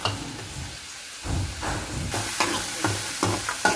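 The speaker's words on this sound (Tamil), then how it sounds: "கொஞ்சம் இப்போ பூண்டு வெங்காயமும் போடுறேன். நல்லா வதக்கணும்." Garlic and onion sauté in a pan, a soft hiss of frying under intermittent scraping stirs, moderately quiet and close, with no voices.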